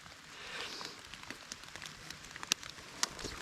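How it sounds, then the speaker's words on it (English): Rain in a wet forest during a first thaw, with big leaf maples nearby, falling harder as a steady soft patter of drops, with a few sharper close drips standing out near the end. "And now it's raining harder."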